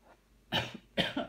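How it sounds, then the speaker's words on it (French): Two loud, close coughs from an adult, each a harsh burst with a short follow-up, separated by a brief pause in an otherwise quiet room. "je tousse."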